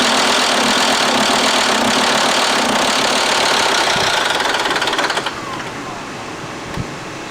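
A five-cylinder sports car engine runs rough and misfires, a loud, uneven mechanical clatter that holds steady, then drops in level and thins out toward the end.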